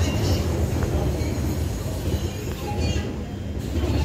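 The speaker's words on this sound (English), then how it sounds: "We have a Lidcombe service arriving onto platform 2. It's a B set." A B set Lidcombe service train pulls into platform 2 at Bankstown station, with steady loud rumble, faint wheel squeal and rail clatter throughout.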